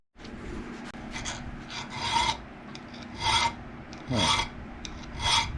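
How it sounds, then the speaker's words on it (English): A hand file works the bevels of a knife blade in slow, rasping strokes about once a second, each pass rising and fading, close and moderately loud, with a brief word spoken near the start. "Start our hand filing now."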